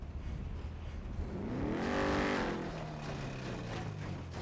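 A video game car engine revs up with a rising, then falling harmonic whine, swelling to a peak midway and easing back under a steady background hum.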